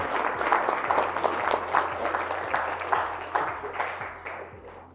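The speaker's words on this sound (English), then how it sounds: "Give each other a round of applause, please." An audience at a physical therapy company's all-hands keynote event gives a round of applause. The clapping is steady and fairly loud, with a dense patter of many hands throughout that tapers off slightly toward the end.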